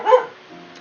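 Dogs let out one loud, close bark that fades into a brief whine, heard alone in an indoor room.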